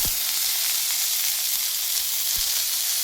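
Jujube berries fry in hot tempering oil with bay leaf, giving a loud, continuous close sizzle with a couple of sharper spits.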